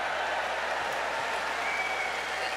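Wimbledon crowd at the 2025 Championships gives steady, dense applause, a continuous wash of clapping with no breaks over a couple of seconds.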